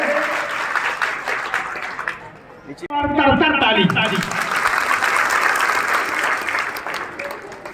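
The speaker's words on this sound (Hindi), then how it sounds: "जोरदार तालियों के साथ उनका स्वागत किया जाए।" Loud audience applause at a district talent award ceremony rises after a brief lull, with steady clapping from a large crowd continuing and a voice speaking over the start.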